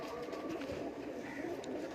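Pigeons coo softly in a noisy setting, their low calls blending into a dense, steady background.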